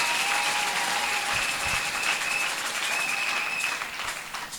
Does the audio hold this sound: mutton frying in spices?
no